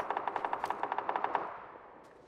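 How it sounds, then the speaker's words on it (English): Automatic gunfire in PUBG on the Miramar map, a rapid burst of about fifteen evenly spaced shots that then fades into a trailing echo. "Oh, I'm shooting through his backpack."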